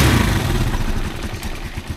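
A Rusi Chariot 175 motorcycle engine with a faulty, noisy air cleaner runs at idle, giving a loud, continuous rough clatter with an uneven pulsing rhythm, close up and with no talk.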